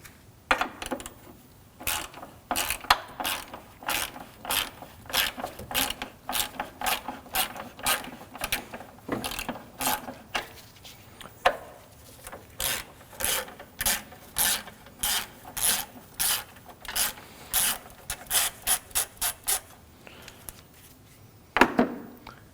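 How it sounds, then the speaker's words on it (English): A 10mm socket ratchet clicks in repeated bursts while loosening the battery tie-down nuts on a 2013-2015 Subaru XV Crosstrek, close rapid pawl ratcheting with short pauses between strokes. "Now we'll remove the battery tie down using a 10mm socket."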